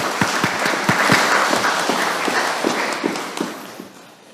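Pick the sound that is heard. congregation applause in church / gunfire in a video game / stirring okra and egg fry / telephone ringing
congregation applause in church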